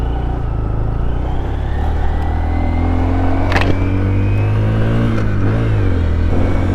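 A small Honda Grom motorcycle's engine drones loud and close while being ridden, a steady mid-pitched buzz with rising and falling revs.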